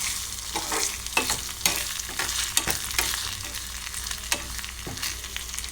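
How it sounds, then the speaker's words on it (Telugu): Tempering spices and moong dal sizzle in hot oil while a spoon stirs them, giving a steady close frying hiss punctuated by repeated scraping strokes, with no talking. "ఇలాగా అన్నీ మిక్స్ చేసుకొని ఇలా ఫ్రై చేసుకోవాలి."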